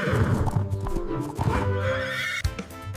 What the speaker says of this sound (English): H is for horse, neigh.